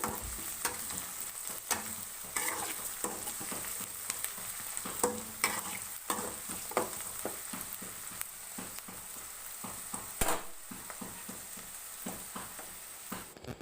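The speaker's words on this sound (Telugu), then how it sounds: "ఇలా ఆనియన్స్ ఫ్రై అవుతుండగా కొద్దిగా కరివేపాకు వేసుకున్నాను." Onions frying in a pan with curry leaves, a steady soft sizzle broken by scraping and stirring clatters from a spoon, fairly quiet and close, with no talking.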